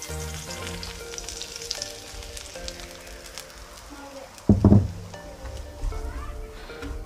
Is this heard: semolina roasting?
yes